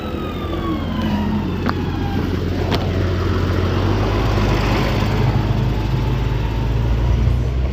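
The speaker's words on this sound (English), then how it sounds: "Big white tractor. It was a big white tractor." A big white tractor rumbles past on a road during a long-distance cycling race, its deep engine drone building and growing louder and closer over several seconds, heard without talk.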